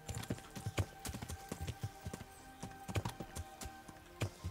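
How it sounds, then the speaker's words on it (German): Hooves of a horse in Kingdom Come: Deliverance clip-clop in a loose, uneven rhythm, close and fairly loud, with a faint whinny in the mix against a low background hum. "Oh, die haben sogar ein Pferd da."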